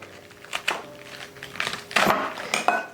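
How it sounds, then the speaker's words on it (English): Medium cabbage pieces being set into a metal Instant Pot insert while cooking corned beef, giving a few clanks and clatters of metal over soft kitchen background. "So what I'm going to do now is just put the cabbage in."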